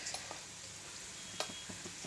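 Cumin and mustard seeds crackle in hot oil for a tempering, with sparse, sharp pops and light sizzle over a faint steady frying hiss, fairly quiet and close.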